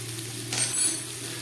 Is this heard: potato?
yes